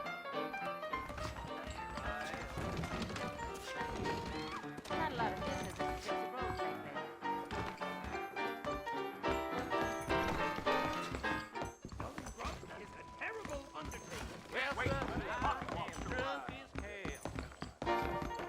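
Horse hooves clip-clopping in the Western game Red Dead Redemption: rhythmic hoof falls at a steady pace beneath game music and dialogue, with voices talking throughout and a snort or whinny among the steps.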